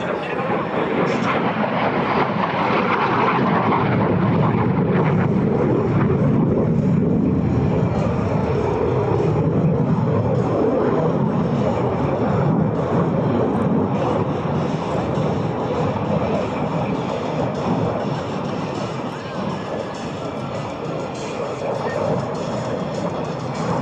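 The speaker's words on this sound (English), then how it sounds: "We watch now to the right for the afterburner" Loud, continuous roar of a MiG-17 jet fighter pulling a tight high-g turn with afterburner at an air show demonstration, a steady engine rumble sustained throughout without a break.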